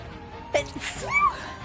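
A single sharp sneeze bursts out mid-clip, followed by a brief breathy gasp and a short rising vocal sound.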